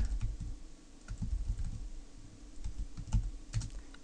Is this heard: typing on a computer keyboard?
yes